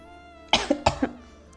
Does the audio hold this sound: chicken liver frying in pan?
no